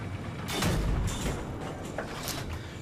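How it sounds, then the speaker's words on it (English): Tank cannon fire in the Battlefield 3 video game: a loud, close boom with a low rumbling tail, followed by a fainter second report near the end, with no talking. "Right here, I'm just firing the cannon, just kind of showing you the smoke, how it would look."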